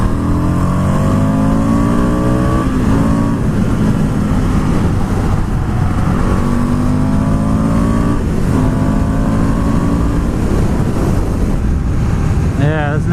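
A 2020 Indian FTR 1200 motorcycle with Akrapovic exhaust cans pulls through the gears on a test ride, its engine note rising and falling in repeated revving sweeps under heavy wind noise, close and loud.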